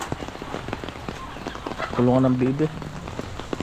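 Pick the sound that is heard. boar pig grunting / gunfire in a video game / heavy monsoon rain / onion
heavy monsoon rain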